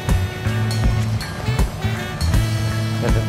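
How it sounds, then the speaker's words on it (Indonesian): Surf rolling onto a beach in Bali beside a hotel, a steady broad wash of waves with a few louder swells, heavily buffeted by wind noise on the microphone. "Nah ini pantainya."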